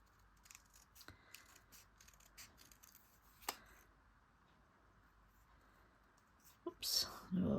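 Quiet snipping of small scissors through paper, a series of soft cuts with faint rustling, ending in louder handling noises.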